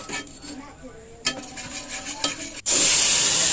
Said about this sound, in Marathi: बेसन पीठ थोडंसं, त्याचं थिकपणा येण्यासाठी चांगलं खरपूस भाजून घ्यायचं आहे